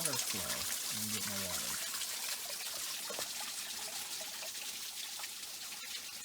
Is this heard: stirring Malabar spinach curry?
no